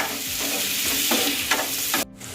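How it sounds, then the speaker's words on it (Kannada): Chopped capsicum frying in a pan for a dhaba-style paneer masala gravy, a steady close sizzle with a few stirring scrapes, briefly dropping quieter near the end. "ಈಗ ಇದಕ್ಕೆ ಕಟ್ ಮಾಡಿ ಇಟ್ಕೊಂಡಿರುವಂಥ ಕ್ಯಾಪ್ಸಿಕಮ್ ಹಾಕೊತಾ ಇದ್ದೀನಿ. ಇದನ್ನು ಸಹ 1-2 ನಿಮಿಷ ಫ್ರೈ ಮಾಡ್ಕೊಳ್ಳಿ."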